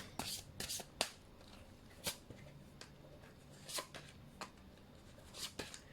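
Romance Angel oracle cards being shuffled, with several crisp riffling bursts and soft card handling between them, close and fairly quiet, no talking.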